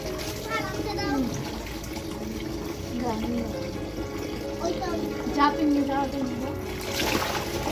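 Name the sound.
washing soaked clothes by hand in water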